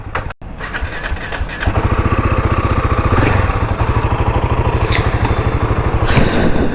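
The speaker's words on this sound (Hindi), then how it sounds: "विदाउट क्लच बाइक स्टार्ट हो रही है." A Royal Enfield Himalayan 450 motorcycle engine starts and settles into a loud, close, rhythmic thumping idle with a few blips of revving.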